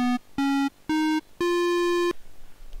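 EarthBound video game music transposed up two pitches, playing four plain square-wave-like tones in a row, three short and one held longer, then stopping into quiet.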